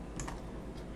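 A few quiet computer keyboard key presses while working in Blender, soft close clicks over a faint background hum.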